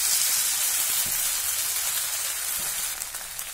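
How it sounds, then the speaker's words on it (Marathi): Thalipeeth, a spiced multigrain flatbread, roasting in an oiled pan over medium-low flame gives off a steady, close, bright sizzle that stays fairly even throughout with no voices. "मध्यम ते मंद गॅसवर हे थालीपीठ दोन्ही बाजूनी पलटून पलटून अगदी खमंग होईपर्यंत भाजून घेऊया"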